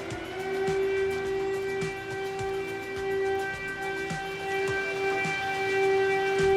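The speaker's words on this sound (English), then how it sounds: "the siren, the air alarm are going." An air raid siren wails steadily over Kharkiv, Ukraine, a sustained tonal drone heard outdoors near a train station, loud and continuous, with faint street noise and thumps beneath.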